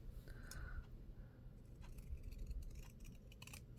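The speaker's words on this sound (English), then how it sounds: "I like to take a larger scissors to do that." Large scissors trimming a strip of paper during a card-making craft session, a few soft close snips and scraping cuts over a low background rumble, no voices.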